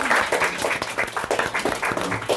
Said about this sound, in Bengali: ওনার জন্য সবাই একটু হাততালি।